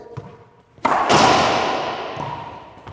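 A racquetball cross-court shot sends the ball into the front wall of an indoor court: a light hit, then a loud, sharp smack that rings out in a long reverberant decay.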